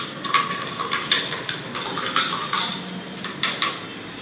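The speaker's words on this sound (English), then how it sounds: "Now stir with the spoon." A spoon stirs a cocktail in a glass at a hotel management institute's bar training session, giving repeated bright clinks and taps in a quick irregular rhythm, close and fairly loud.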